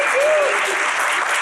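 Audience applause at a marketing analytics summit, a loud, dense, continuous burst of clapping filling the short moment, with a brief vocal sound near the start.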